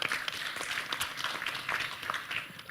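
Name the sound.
audience applause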